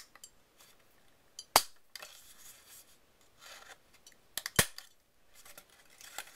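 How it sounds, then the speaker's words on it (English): A handheld corner rounder punches through the top flap of a folded 3x3 paper box: two sharp, crisp clicks about three seconds apart, close and alone, with faint paper rustling between. "I'm going to take my corner rounder now. And what I want to do is round this top flap."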